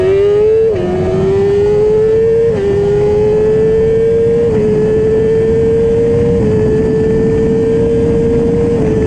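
A nitrous-fed Kawasaki ZX-10R street bike engine screams loud and close, its pitch climbing steadily and dropping briefly at several gear changes, with no talking over it.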